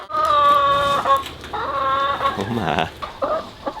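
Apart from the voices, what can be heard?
chickens clucking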